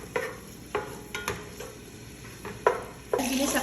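Onion and garlic stirred in a little oil in a pot, with several distinct spoon scrapes and clanks against the metal over a soft sizzle, closing in a brighter burst of frying.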